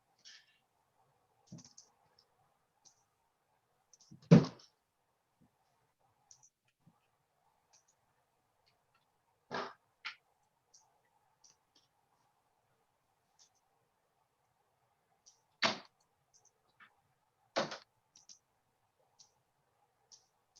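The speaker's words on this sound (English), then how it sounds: "Stop typing for a minute" Sparse, irregular clicks and taps with long quiet gaps and a few sharper, louder hits, like scattered keystrokes in a quiet room.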